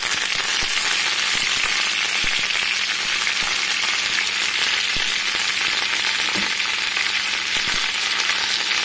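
Green chillies, a handful of coriander and a piece of tamarind fry in hot oil for a spicy chutney, giving a steady, close, hissing sizzle that runs unbroken with faint occasional pops and no talk.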